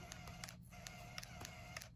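An infusion pump priming TPN tubing at home gives off faint, regular mechanical clicks, roughly three per second, over a steady background hum.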